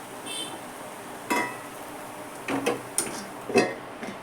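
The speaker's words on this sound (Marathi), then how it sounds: "आता मी हा उचलून ठेवते दुसऱ्या गॅसवर झाकून ठेवते" Metal pot clinks set down on a gas stove burner and a lid placed on top, a few sharp clanks spread over several seconds in a quiet kitchen.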